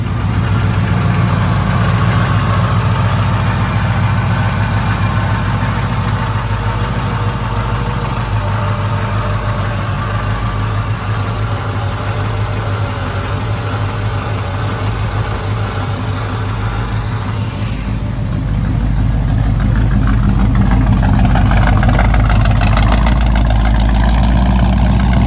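Supercharged 383 engine in a 1955 Chevrolet Bel Air idling loudly and steadily up close, a deep rumbling drone with a lighter mechanical whine on top, easing off slightly near the end.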